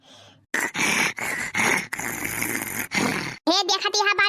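A person snores loudly and close by in repeated rough, rasping breaths, each snore lasting about half a second to a second with short gaps between them. A higher, voiced sound at the end fits a continued snort or a vocal imitation of the snoring.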